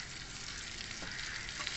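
Tomato and green chilli sizzle in a pan of oil while cooking biryani, a steady, even frying hiss with soft stirring, moderately quiet and with no voices.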